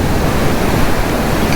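Sea waves washing onto Ramayyapatnam beach in Andhra Pradesh, a loud continuous roar of surf mixed with wind buffeting the microphone, with no voices.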